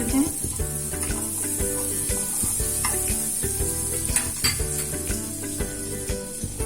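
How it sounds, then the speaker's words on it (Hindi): Butter melts and sizzles in a hot pan while a cheese paneer sandwich is made, a steady close sizzle with light stirring and pan clinks over a faint tonal background. "हम इसमें बटर डालेंगे। इसको मेल्ट होने देते हैं।"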